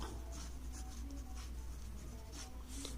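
Someone writes an answer by hand, making soft pen or pencil scratches in short strokes, close and faint over a constant low background hum.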